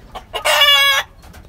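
A large tiger-coloured rooster kept on a rooftop gives a single loud, close crow of about half a second, preceded and followed by a few short clucks, with no voices.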